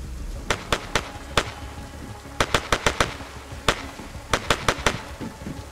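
Repeated gunshots in the DayZ video game ring out in sharp bursts, a few quick shots, a pause, then two tight clusters of four or five cracks each, loud and close with no talking.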